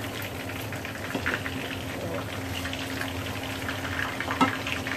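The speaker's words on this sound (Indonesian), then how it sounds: "Minyaknya udah panas. Sekarang saya masukkan ikannya." Fish frying in hot oil in a home kitchen, a continuous soft sizzle and bubbling crackle with a faint steady hum underneath.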